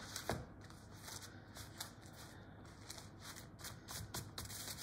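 Puff pastry sheet being unrolled from its paper for a mushroom and chicken liver pie, giving close, quiet papery crinkling and rustling in uneven bursts throughout, with no talking.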